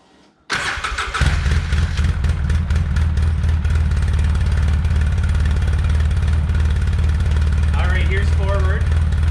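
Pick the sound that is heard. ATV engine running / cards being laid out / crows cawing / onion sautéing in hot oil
ATV engine running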